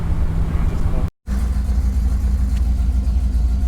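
Pontiac Firebird engine cruising at high RPM in low gear, a steady loud droning hum heard from inside the car, broken by one brief dropout.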